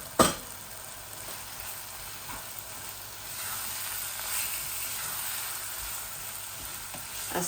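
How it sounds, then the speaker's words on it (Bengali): Curry powder, chili, cumin and coriander fry in a pan with a steady, soft sizzle and hiss that rises slightly midway, one brief clatter at the start, close by with no talking. "আস্তে আস্তে বুনা হোক"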